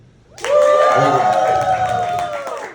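A comedy show audience bursts into loud cheering, whooping and clapping on cue, a sudden roar that holds steady for a couple of seconds before easing slightly.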